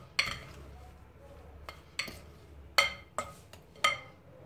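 Boiled potatoes being mashed in a bowl for a purée, giving five or six distinct clinking knocks of a utensil against the bowl, spaced irregularly over a soft, close background.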